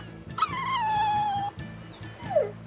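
In the Tales of Berseria Remastered video game, a dog gives a long drawn-out whimper and then a shorter falling whine, over a soft repeating game music loop.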